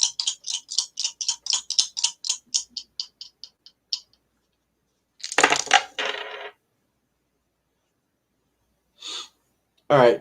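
Astro dice for a tarot and astrology reading rattle in a quick series of small clicking taps, then tumble and clatter in short bursts separated by silence, close and crisp.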